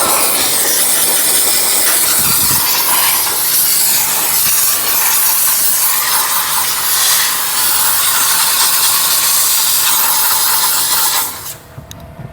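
An Aqua Pro steamer runs continuously during interior car detailing, a loud, steady hiss with mechanical rattling throughout, cutting off sharply just before the end.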